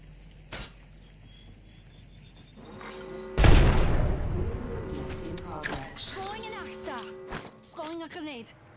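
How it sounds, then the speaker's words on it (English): A single grenade explosion in the game Apex Legends, a sudden loud boom that decays over a few seconds, with quieter game sounds and voice lines around it. "A grenade."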